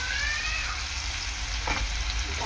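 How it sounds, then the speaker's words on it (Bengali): Potatoes frying in hot oil in a home kitchen while making jhinge posto, a steady dense sizzle with faint crackles throughout and no one speaking. "তো মোটামুটি আলুটা ভাজা হয়ে গিয়েছে"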